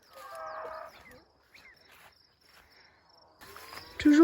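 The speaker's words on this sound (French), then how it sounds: "Ah, vous entendez cette vache?" A cow moos on a farm, a low drawn-out call rising near the end, set against quiet outdoor ambience with crickets chirping softly in the background.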